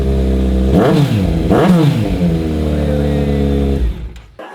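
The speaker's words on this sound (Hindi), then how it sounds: "कोल्ड स्टार्ट में नॉर्मली रेव नहीं करना चाहिए, मेरे पास इतना टाइम नहीं है कि मैं एक बाइक को पूरा प्रॉपरली गर्म करूँ, तो इसलिए एक दूसरा रेव दूंगा।" A motorcycle on a cold start revs hard twice through a loud exhaust, each blip rising and falling sharply over a steady idle, then the engine cuts off near the end.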